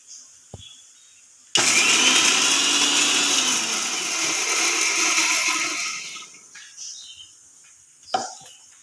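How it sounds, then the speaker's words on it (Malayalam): An electric mixer grinds shallots and two small pieces of ginger, a loud steady whirring motor burst that starts abruptly and runs about five seconds before winding down, with a few small clicks around it and no talking. "ഇതൊന്ന് ചെറുതായിട്ട് അരയ്ക്കാൻ പോവുകയാണ്."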